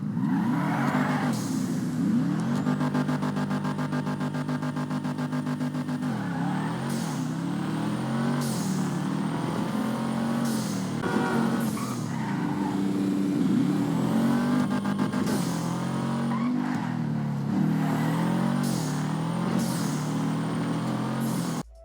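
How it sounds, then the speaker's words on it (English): A Sultan RS car engine in GTA V Online revs hard and runs up through rapid gear shifts, its pitch rising and dropping repeatedly in loud, continuous waves with no talking over it. "This thing shifts like crazy and I love the way the engine sounds."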